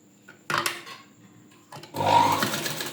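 A sewing machine stitches a folded blouse strip in two short runs, the second louder and longer, with soft handling noises of cloth in between.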